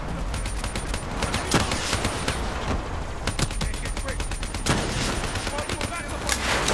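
Call of Duty: Black Ops III gunfire rattles almost nonstop, loud and dense, with sharp individual shots cutting through and brief thinner moments. Players talk over the shooting.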